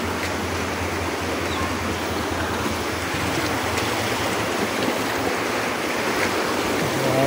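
Rushing floodwater flows steadily and loudly through a flooded street after rain, a continuous broad wash like a fast current.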